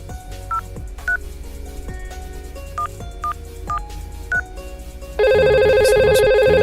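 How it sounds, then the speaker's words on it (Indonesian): Simulated VoIP telephone in Cisco Packet Tracer across two routers: a series of short dialing key tones over a steady low hum, then a loud continuous electronic ringing tone that begins near the end. "Nah, sekarang kita coba telepon."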